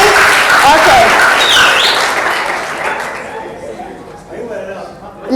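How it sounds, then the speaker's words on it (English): A room applauds for Deshti with a loud burst of clapping and lively chatter, then the clapping fades over a few seconds as scattered voices carry on. "Big round of applause for Deshti"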